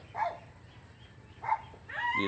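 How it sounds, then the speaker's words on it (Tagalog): Dogs bark and yip a few times at some distance, in short separate bursts over a quiet background hum. "Kasi na kayo maingay yung mga aso no."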